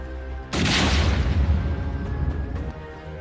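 A single massive car bomb explosion erupts suddenly, a deep roaring boom that rumbles on for a couple of seconds before cutting off.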